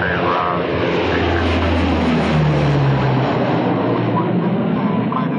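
A King Air 90 propeller aircraft taxis out from a jet center, its engines producing a steady, loud droning roar with a low hum that shifts slightly in pitch throughout.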